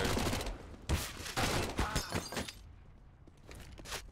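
Two grenades detonate in Counter-Strike on the Cobblestone map during a pro match, a cluster of sharp bursts and shattering crackles with debris, fading to quieter game sounds and a final pop.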